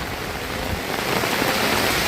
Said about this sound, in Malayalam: ഓ ഭയങ്കര മഴ